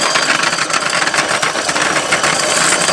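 A rechargeable cordless peeling machine for onions and potatoes runs with onions loaded inside, giving a steady, close whirring and rattling hum that holds without a break.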